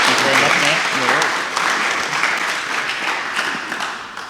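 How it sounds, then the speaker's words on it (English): Audience at a Queensland Australian Electric Vehicle Association meeting applauding after a talk: dense, steady clapping for several seconds that tapers slightly, with a voice speaking over the opening moments. "Round of applause."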